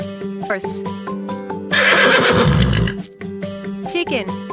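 A horse gives a long, loud whinny that runs about a second, surrounded by short bright neighing squeals and a bouncy nursery-rhyme accompaniment.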